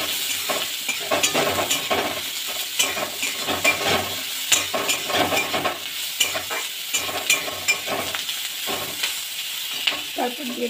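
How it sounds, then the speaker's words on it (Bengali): Onions sizzling and frying in hot oil while being stirred, with a busy crackling hiss and frequent scraping stir strokes throughout; close and steady, no talking. "পেঁয়াজগুলো লাল লাল করে ভাজা হবে।"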